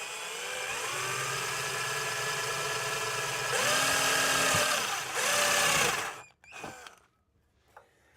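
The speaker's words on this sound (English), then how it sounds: "I might have to use the drill and punch a hole in" A power drill whirs steadily at high speed while boring a hole, its pitch rising and straining in two louder bursts before it cuts off, leaving a few faint clicks.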